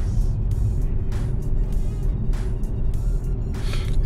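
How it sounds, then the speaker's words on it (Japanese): A BMW 523i Touring car climbs a hill with a quiet, smooth engine hum, heard from inside the cabin as a low, steady drone with faint road noise. "もう音も静か、エンジンの音も静かだし、全然坂登ってる感じがしないですね。"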